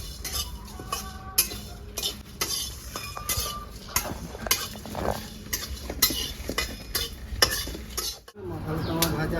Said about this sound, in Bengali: মশলাটা আমার ভাজা হয়ে গেছে, এবার নামিয়ে দেবো।